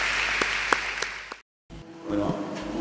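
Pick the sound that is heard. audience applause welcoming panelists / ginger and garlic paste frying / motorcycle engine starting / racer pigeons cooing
audience applause welcoming panelists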